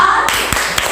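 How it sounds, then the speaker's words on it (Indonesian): A class group in a school lesson does a thumb clap together for group 4: a few separate taps or claps land at even intervals over a steady background. "Tepuk jempol untuk kelompok 4."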